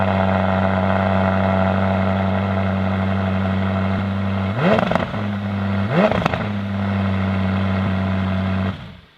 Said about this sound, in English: we're going to start with the exhaust clip